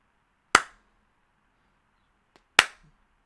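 Two sharp, isolated hand claps about two seconds apart, crisp and close in an otherwise silent room, used to trigger a clicker game.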